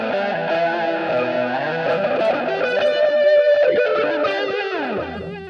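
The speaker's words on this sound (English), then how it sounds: "I've gone ahead and set up a touch wah." A guitar-type instrument played through a touch wah effect on a NUX MG50Li amp, with funky, sweeping tones and sustained distorted notes ringing loudly and alone for several seconds before fading slightly.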